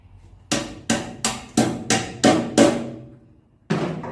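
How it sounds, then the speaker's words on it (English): Seven sharp metallic hammer taps in quick succession drive a rivet nut into a tight hole in a car body panel, then a pause and one more tap, each strike close and ringing briefly. "got the riv nut just sitting in there, so I'm just going to tap it in"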